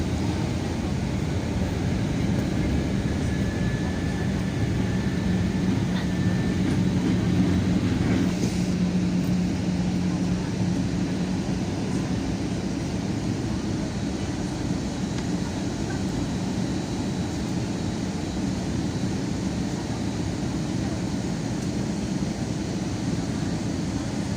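Inside the cabin of a Cebu Pacific Air airplane during landing, a steady, loud broadband engine and air roar fills the space continuously, with no voices heard.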